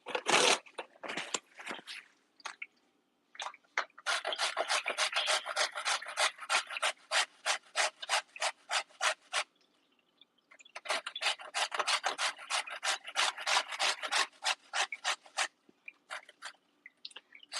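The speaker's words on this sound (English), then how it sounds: "So I'm going to grate this." Zucchini grated by hand in two long runs of fast rhythmic rasping strokes, loud and close, with a few clunks at the start and a short pause in between.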